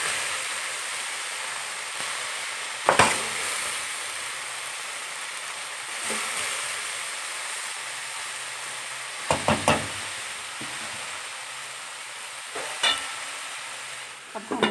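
Chicken and vegetable macaroni stirred in a pan at home, a steady sizzle and fry carrying throughout with several sharp scraping clicks of the spoon against the pan at intervals, no voices.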